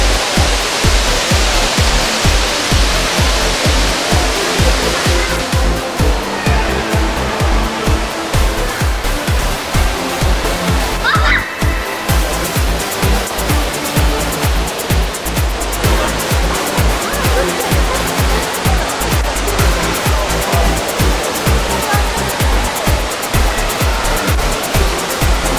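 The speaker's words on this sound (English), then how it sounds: "which contained a 42 meter tall artificial mountain and the world's tallest indoor waterfall" The world's tallest indoor waterfall roars inside the Cloud Forest dome at Gardens by the Bay, Singapore, a loud constant rush of falling water filling the space.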